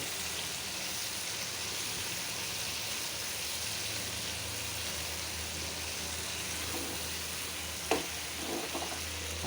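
Prawns fry in a pan with tomato and onion for a Bengali prawn do pyaza, giving a loud, continuous sizzle throughout, with a couple of brief utensil clinks near the end.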